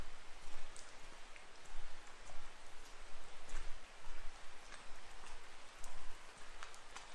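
Rain falls steadily on a riverside campground beside the Lyre River in a rainforest, a continuous patter of drops with some louder close splats and no voices.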